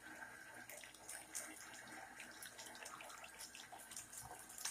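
Tap water runs steadily over a hedgehog being rinsed during a bath, a soft continuous splashing close by with no talking.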